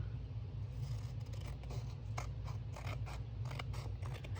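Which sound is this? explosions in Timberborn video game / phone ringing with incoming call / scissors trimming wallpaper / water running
scissors trimming wallpaper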